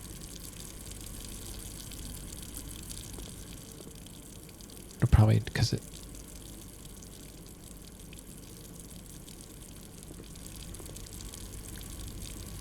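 Water flowing in the game Blue Prince, a faint steady gushing like a pump or tap running beneath a voice, interrupted by a brief louder clatter midway.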